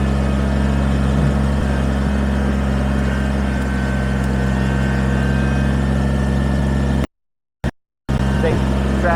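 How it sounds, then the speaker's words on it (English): Kubota BX23S compact tractor in four-wheel drive pushes a pile of logs, its diesel engine holding a loud, steady, close drone with a brief cut-out near the end. "Big tractor just pushed that like a bulldozer."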